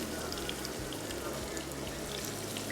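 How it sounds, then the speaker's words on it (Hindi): Water is poured into a pan of frying onions with ginger garlic paste, giving a continuous sizzling, bubbling hiss close to the pan, steady throughout with no talk. "अभी इसमें पानी डालिएगा थोड़ा सा"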